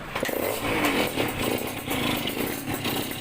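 A motorcycle engine fitted with an aftermarket performance exhaust, with a hard-starting, stumbling fault, runs and revs up close, a continuous rough, buzzing drone that swells and dips in waves without speech.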